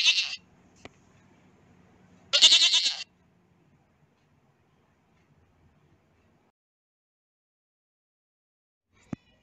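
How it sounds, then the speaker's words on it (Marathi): A goat gives two short, loud bleats a couple of seconds apart, followed by near silence and one sharp tap at the end. "शेळी"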